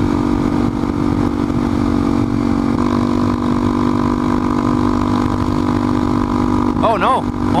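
A motorcycle engine running low on gas while riding: a loud, steady engine drone with wind rush continues throughout, and a brief wavering tonal sound near the end.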